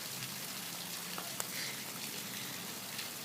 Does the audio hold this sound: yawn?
no